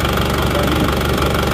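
A loud, steady car engine running with ignition timing set too far advanced, giving a rough, rapid rattling knock throughout, heard close up with no voices.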